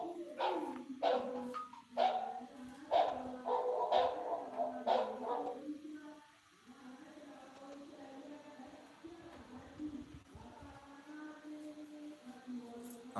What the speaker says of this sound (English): I'm going to stop those dogs.